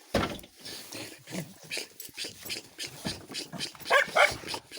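A dog barks in short repeated bursts close by, with sharper yips near the end, over light outdoor background noise in snow.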